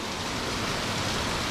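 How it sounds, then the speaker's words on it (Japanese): A heavy nighttime downpour during a train journey through Thailand makes a dense, steady roar of rain that stays loud and unbroken throughout. "すごいな、土砂降りだな。"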